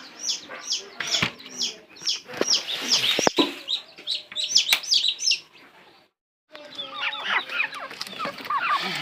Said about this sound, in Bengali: এই যে আমার দেশি মুরগি ডিম পারতেছে